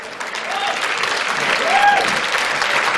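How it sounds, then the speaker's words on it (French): An audience at a cabaret evening applauds nominees with dense, steady clapping that swells slightly midway, while a couple of brief voices or whistle-like tones rise above the crowd. "donc on peut les applaudir"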